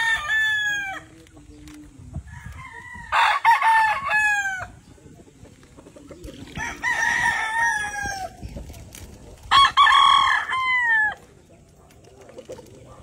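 Roosters crow in several long bursts while chickens cluck and scratch between them, moderately close, with faint background noise and no talk.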